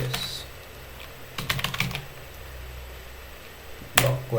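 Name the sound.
typing on a computer keyboard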